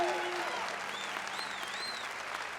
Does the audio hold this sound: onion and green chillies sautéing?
no